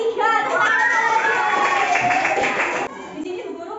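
Schoolchildren in a fifth-grade classroom clap for a group, a brief burst of applause mixed with overlapping children's voices and a teacher speaking.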